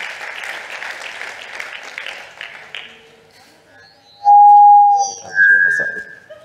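Conference audience applauding a co-organizer, a dense clatter of many hands that fades after about three seconds, followed by a few loud sustained tones and a voice near the end.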